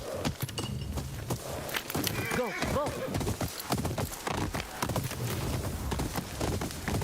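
Horse in the video game Ghost of Yotei: steady clip-clop of hooves on the ground with a brief whinny partway through, heard up close beneath ongoing game ambience.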